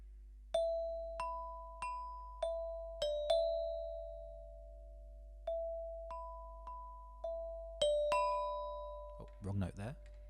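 A spider tune is played on chime bars: a dozen or so clear, ringing struck notes in an uneven melodic rhythm, each decaying slowly, with a brief muffled voice at the very end.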